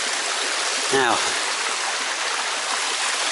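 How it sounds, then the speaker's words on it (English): A small cascade of water in a botanical garden in Malaga splashes steadily as a continuous broadband rush, with a brief spoken word near the start. "kind of get a kind of respite from the dry weather with the sound of well, small cascade."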